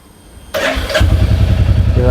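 A Royal Enfield Bullet motorcycle fires up on its self-starter: a quiet lead-in, a sudden catch, then a deep, even thumping idle continuing to the end, with a voice speaking over it.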